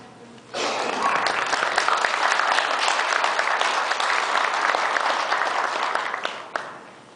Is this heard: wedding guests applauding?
yes